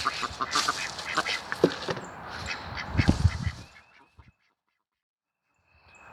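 Several backyard ducks quack and honk in a noisy cluster nearby, then the calls stop abruptly, leaving near silence.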